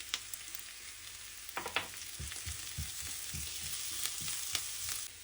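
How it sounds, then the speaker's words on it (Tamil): Green chillies, garlic and curry leaves fry in hot oil with a steady sizzling hiss, while a spoon stirs and scrapes the pan in soft, irregular knocks, with no one speaking. "2 பச்சை மிளகாய், 4 உள்ளி சின்ன சின்ன துண்டாக வெட்டினது அதையும் இதுக்கு சேர்த்து விடுவோம்."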